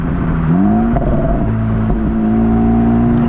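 2024 Acura Integra Type S engine rising in pitch as it downshifts with rev matching, then settling into a steady loud drone heard from inside the car, without speech.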